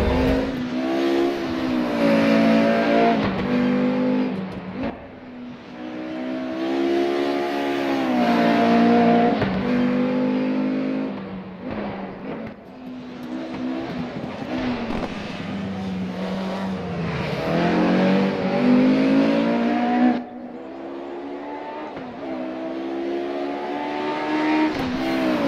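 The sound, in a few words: DTM Mercedes race car engine revving on the Nordschleife, RaceRoom video game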